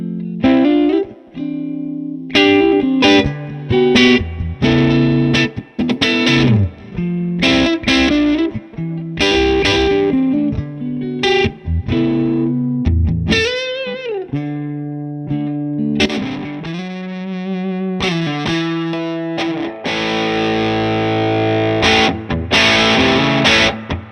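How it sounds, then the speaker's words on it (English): An electric guitar with Gibson scale length plays through a Mesa Fillmore amp with a distorted, driven tone, mixing choppy chords, sustained notes and single-note runs, loud and alone without talk. "let's take a listen to the Fillmore with the Gibson scale guitar and see how it stacks up"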